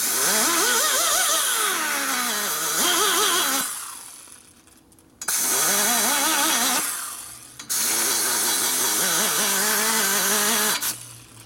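A rotary grinder smooths the port of a Harley-Davidson Sportster XL 1200 cylinder head in three loud bursts, its high whine rising and dipping in pitch under load, with short pauses between.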